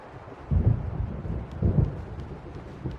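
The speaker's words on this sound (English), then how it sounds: "The storm is almost here." Rumbling thunder from an approaching storm in Alan Wake Remastered, with two low booming swells over a steady wind and rain hiss.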